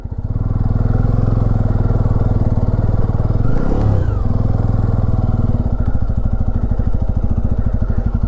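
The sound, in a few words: motorcycle riding through sand on a forest trail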